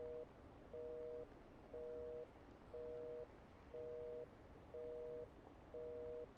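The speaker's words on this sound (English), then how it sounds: "Why is she getting a busy signal on a cell phone" A cell phone busy signal repeats as evenly spaced two-tone beeps, about one per second, steady over a low background hiss with no talking.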